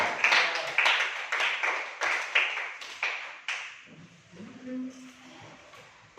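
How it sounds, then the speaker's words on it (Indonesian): Classroom applause for a student presentation group, a burst of brisk hand claps from a small group of students for about four seconds, tapering off as a faint tone and murmur remain. "beri tepuk tangan untuk kelompok 2"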